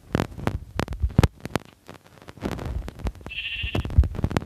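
A short synthetic sheep bleat from Minecraft rises midway through a run of sharp, repeated thudding taps and low hum, like game sound effects.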